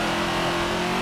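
Race car engine in Forza 7 at Maple Valley Raceway, revving hard in a steady, loud, continuous drone with a strong tonal whine, no voices over it.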